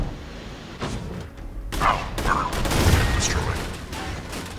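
A new shotgun firing in Borderlands 2, with several loud blasts and booming impacts in a busy game mix. Someone talks over part of it.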